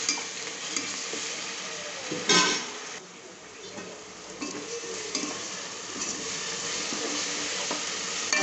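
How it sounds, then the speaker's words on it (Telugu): Ginger garlic paste sizzling in a pan for mushroom biryani, with continuous frying hiss and occasional scrapes and light clinks of a spoon stirring. "వేగిన తర్వాత అల్లం వెల్లుల్లి పేస్ట్ వేసుకుంటున్నా."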